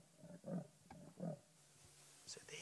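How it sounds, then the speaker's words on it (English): A leopard in darkness gives a rasping, roaring call like wood being sawn: a few low, rough bursts at moderate distance, pausing between them, with faint higher rustles near the end. "It is a rasping, roaring call, and it sounds like somebody's sawing wood"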